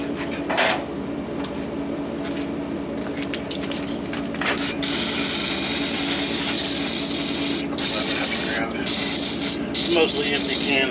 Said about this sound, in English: Mostly empty can of spray, actually.